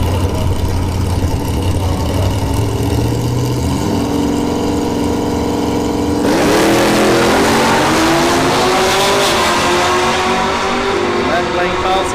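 A 5th generation Camaro launches down the left lane of a drag strip at a sportsman finals, engine idling then roaring hard through rising revs, loud and close, with crowd and announcer chatter blending into the din.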